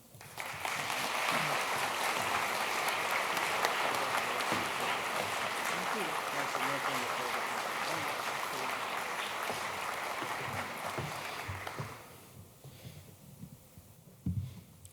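Sustained applause from a lecture audience welcoming a professor to the podium, a dense steady clatter of many hands that fills the room for about twelve seconds before fading to scattered claps and quiet.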